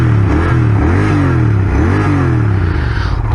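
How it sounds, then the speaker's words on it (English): A Royal Enfield Continental GT 650 parallel-twin motorcycle at a standstill is blipped through several quick revs, the loud close exhaust note rising and falling in repeated swells before settling to a steady throb. "Let's give it a few revs."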